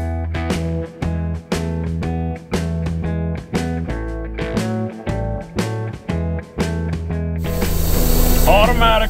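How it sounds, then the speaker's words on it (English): Automatic truck wash jets burst on with a loud, broad hiss of spraying water over a truck near the end, after a stretch of rhythmic music. "Truck wash."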